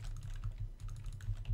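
Computer keyboard keys tapped repeatedly during horror-game play of Kuro Oni, a quick irregular run of soft clicks close to the microphone over a low steady hum, with no voices.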